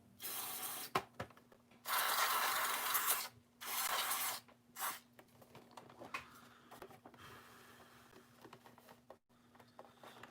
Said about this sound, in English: I'm gonna spray just a little bit into the plastic and see if I can't clean it off.